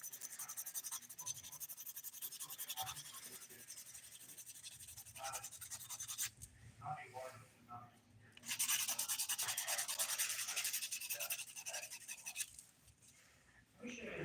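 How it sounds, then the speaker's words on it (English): A 180-grit nail file smooths dip-powder fingernails with close, steady scratchy strokes that pause briefly and resume louder, while soft speech is heard in the background. "I think I'm gonna use the 180 grit side of this file."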